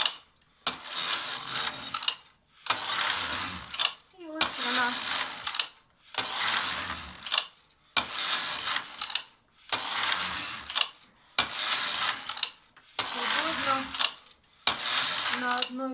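A Singer sewing machine embroiders in a steady rhythm of short mechanical bursts about once a second, each followed by a brief pause, heard close up and without talk.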